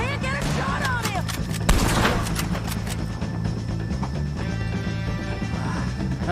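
Gunfire aimed at O'Driscoll gang members in a video game, dense overlapping shots and blasts crackling continuously over a busy background mix, with voices briefly audible.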